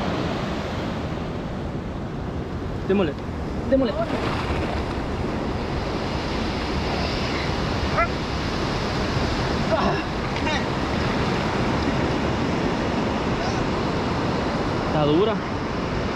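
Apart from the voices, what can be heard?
sea waves and surf at the shore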